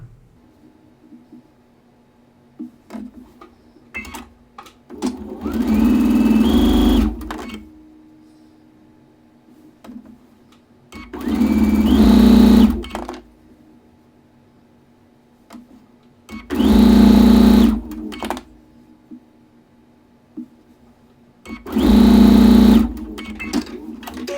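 A sewing machine stitches quilt pieces together in four separate runs of several seconds each, a loud, close, steady whirring motor with quiet pauses and small handling clicks between the runs.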